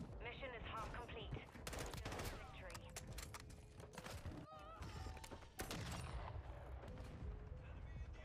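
Rapid M16 rifle bursts from Call of Duty: Modern Warfare 2 crackle almost without a break, dense and loud, with game effects and explosions piling up around them.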